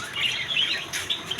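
Budgerigars and other cage birds at a busy bird market chirping and tweeting in a dense, high, overlapping chatter, continuous and fairly close.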